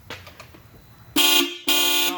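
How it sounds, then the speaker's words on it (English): Two loud blasts from the horns of an Audi car at a car meet, close by, each lasting about a quarter second, preceded by faint lower sounds. "Honk the horns."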